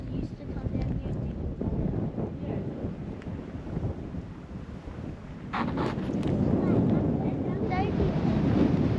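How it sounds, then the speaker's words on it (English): Strong wind buffeting a microphone outdoors near an old mining area at Mt Isa, a loud continuous roar and rumble that surges stronger toward the end, with faint voices underneath. "it's just too windy"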